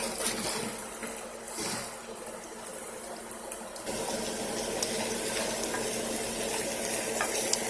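Ingredients are stirred in a sizzling pan with onion soup mix, giving a steady close frying hiss with scraping strokes early on, then a smoother continuous sizzle, with no talking.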